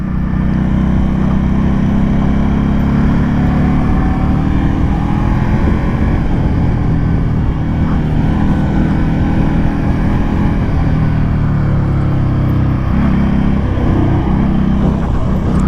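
An Indian Scout motorcycle engine drones steadily while riding, a loud continuous low rumble with wind noise throughout and no talking.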